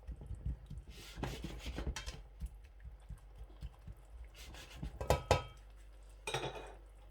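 Peas stir-fried in a pot over high heat for rice, a spoon scraping and clattering against the metal in irregular bursts, close and fairly quiet.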